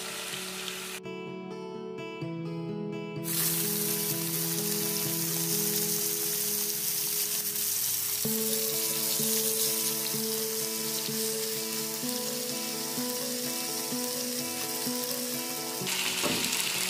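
Chicken breast seasoned with Worcestershire sauce searing in a pan over high heat gives a loud, steady hiss and crackle throughout, with a short burst of clinking near the start and no talking.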